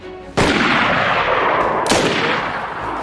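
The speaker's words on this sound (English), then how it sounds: "I finish off the ghillie guy and then shoot the other guy" Two loud, close gunshots in the survival video game DayZ, one sharp crack near the start and a second about a second and a half later, each followed by a long, booming echo that trails off.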